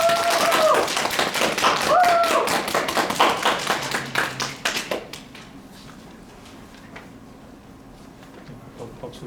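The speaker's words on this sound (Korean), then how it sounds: "박수를 이렇게 치시고." Audience applause at a university law school orientation event: dense clapping for about five seconds that thins into scattered claps and fades, with a voice briefly heard over it.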